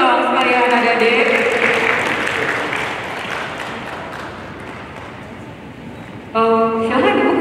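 Applause from students in a university lecture hall, a dense steady patter filling the room and slowly thinning, with a voice speaking over it at the start and end.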